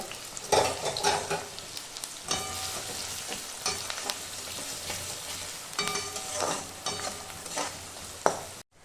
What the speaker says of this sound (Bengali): এই কুচানো পেঁয়াজটাকে এবার আমি দিয়ে দিচ্ছি তেলের মধ্যে দিয়ে এটাকে একটু ভেজে নেব